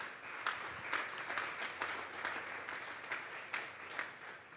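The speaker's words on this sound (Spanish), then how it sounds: "Vamos a darle un fuerte aplauso pues al Señor esta tarde." A congregation applauding steadily at a Sunday church service, a broad wash of clapping with a few sharper claps standing out, moderately loud throughout with no voices over it.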